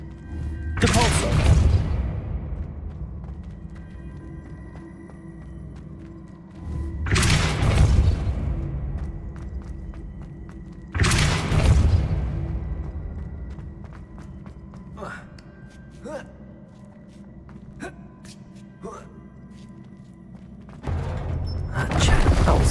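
Several Depulso spell casts in Hogwarts Legacy, each a loud whooshing burst with a heavy thump, spaced several seconds apart, with sharp clicks and small impacts in between. A voice speaks at points.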